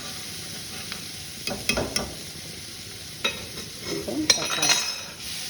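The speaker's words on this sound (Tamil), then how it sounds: "எல்லாத்தையும் ஒன்றா போட்டு வதக்கணும்." Tomato, beans and potato cut up for kara kuzhambu sizzle softly in a pan while a spoon stirs and scrapes, giving several clattering bursts over a steady frying hiss, with a brief spoken word.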